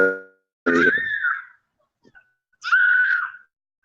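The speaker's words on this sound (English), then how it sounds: "Why in the hell is the little girl screaming like that?" A little girl screams in two long, shrill outbursts about a second apart, loud and piercing against a quiet neighborhood background.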